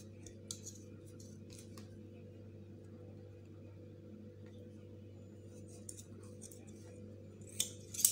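Paper-cutting scissors snipping during a craft session making a watering can from recycled materials, a few faint sharp clicks of the blades over a steady low background hum.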